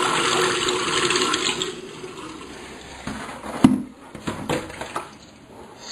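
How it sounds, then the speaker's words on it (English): Water is dumped down a bathroom drain into plastic Schedule 20 plumbing: a loud gushing pour that fades, then irregular gurgles, splashes and knocks from the pipes. "I'm going to try and dump some water down the drain and see if this plastic Schedule 20"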